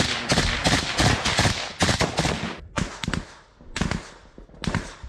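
Enemy machine gun fire hits near a trench in sharp, loud bursts of rapid cracks, several volleys broken by short gaps, close and harsh with no talking.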